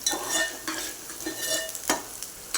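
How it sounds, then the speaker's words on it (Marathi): Onion being stirred and sautéed in a pan for a dry ridge gourd stir-fry, a soft steady sizzle broken by a few scraping stirs of the spoon against the pan, close and fairly quiet, with no talking. "परतायचं याला कांद्याला पहा सॉफ्ट होत चाललाय कांदा"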